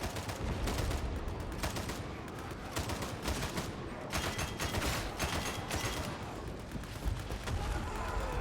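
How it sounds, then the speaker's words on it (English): Sustained volleys of gunfire rattle through a Warhammer 40,000: Darktide battle, with repeated bursts and heavy shots layered into a dense, chaotic barrage. "Engaging precision fire!"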